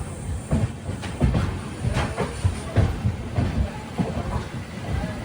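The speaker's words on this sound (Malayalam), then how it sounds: "എറണാകുളം ടൗൺ റെയിൽവേ സ്റ്റേഷൻ ഇതാ ട്രെയിൻ എടുത്തു." A passenger train pulls out of Ernakulam Town railway station in Kerala, its steady low rumble and rhythmic wheel clatter continuous and close throughout, with faint voices mixed in.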